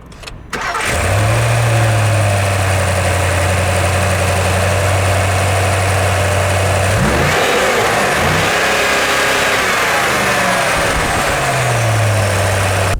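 A Range Rover Sport first edition's 4.4-litre V8 petrol engine starts with a sharp catch, settles into a steady idle, then revs up and down several times, close and loud, with no voices.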